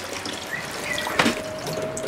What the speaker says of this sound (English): I need to get this salt water out of the engine, and as you can see, it's all water